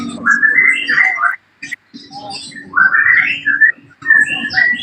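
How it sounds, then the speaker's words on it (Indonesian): Oriental magpie-robins (murai) singing nearby, bright varied whistled phrases in bursts separated by short pauses, with a low background murmur underneath. "saya emang kebetulan banyak burung murai di sini"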